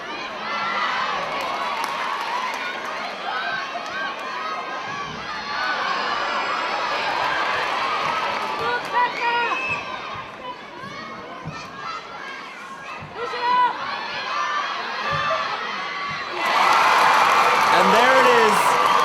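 Spectators at the Nine News Netball Cup 2016 grand final between Contax and Matrix cheer and shout in a sustained roar that swells louder near the end, with a commentator speaking over it.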